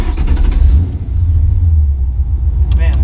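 A 1965 Mustang Pro Touring fastback with a swapped Coyote V8 drives off, its deep engine rumble steady and loud throughout, swelling slightly at the start, with a brief higher-pitched burst near the end.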